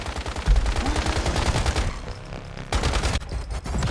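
An AK rifle fires in rapid full-auto bursts in the video game Once Human, loud and punchy, with a short break before another burst resumes, with no talking.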